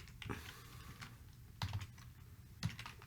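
Code is typed on a computer keyboard in a soft, fairly quiet stream of clicks with a few heavier thumps from larger keys, heard on its own with no voice.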